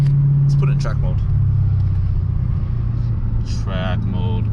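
A Lexus RC F with its V8 engine in track mode drones deep and steady from inside the cabin, a constant low rumble with brief voices breaking in over it.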